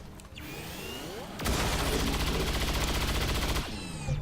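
Sustained burst of automatic gunfire from the turn-based strategy game XCOM 2 as a soldier attacks an armored Andromedon alien, loud and continuous for about two seconds between quieter game ambience with a faint voice.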